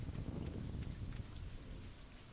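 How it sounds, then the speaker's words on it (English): Steady rain with a low rumbling thunderstorm in the farming game Stardew Valley, a dense hiss of falling water with deep booming underneath, short and continuous, with no talk over it. "Oh, lightning."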